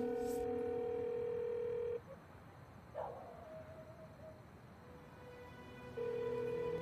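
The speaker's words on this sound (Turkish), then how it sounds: "Çalıyor cevap vermiyor." A telephone ringback tone on an unanswered call: long steady tone bursts separated by a silent gap of a few seconds, with a faint knock and low background noise between the rings.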